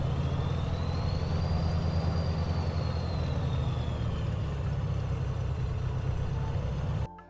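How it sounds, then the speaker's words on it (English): Simulated turbocharged aircraft engine from a flight simulator, a loud, steady low drone with a rising and falling turbocharger whine over it, cutting off abruptly near the end. "Such an incredible sounding engine"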